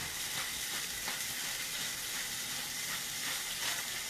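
Lamb steaks fry in hot oil in a pan, giving an even, unbroken sizzle and hiss that stays loud and close throughout, with no voices.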